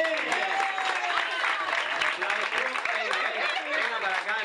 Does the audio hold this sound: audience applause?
yes